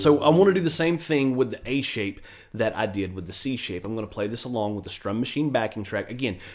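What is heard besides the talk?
None of the usual background noises is heard.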